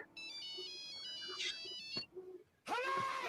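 A phone ringtone plays as a bright, tonal electronic melody with stacked harmonics, cutting out briefly before a louder burst of the ring returns, with faint talk and movement underneath.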